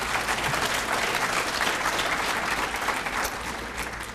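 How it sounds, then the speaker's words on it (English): A large audience at a school district Wall of Fame induction ceremony claps steadily and loudly for about four seconds, a dense unbroken wash of hand claps that tapers slightly at the end. "give yourselves a round of applause"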